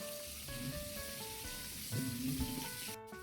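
Steady rain falls throughout, a dense continuous hiss, with faint tonal sounds layered over it.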